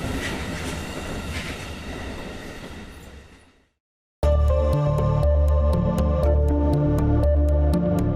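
A train rolls through a railway station with loud, steady rumble and a regular clickety-clack of wheels over rail joints, after a fading stretch and a brief silence.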